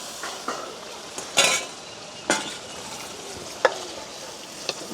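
A spoon stirs chicken curry with coconut milk in a pot over a village fire, giving a steady bubbling simmer broken by a few scraping clinks against the pot, close up and without talk.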